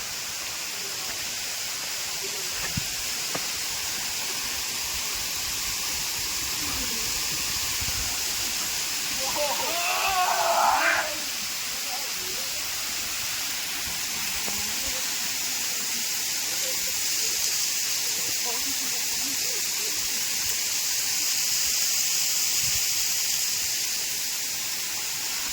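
Godipali waterfall in Nayagarh, Odisha, sends out a steady broadband roar of falling water that holds evenly throughout, with a brief close voice partway through.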